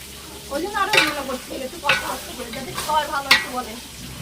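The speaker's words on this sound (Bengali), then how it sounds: "ওই দেখো গ্যাসে আমি ভাজছি।" Goat meat frying in a pan on a gas stove gives a steady sizzle, broken by a few sharp stirring scrapes and clinks, while voices murmur in the background.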